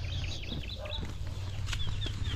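Chickens cluck and chirp in short, scattered calls over a low background rumble outdoors, moderately close but fairly quiet.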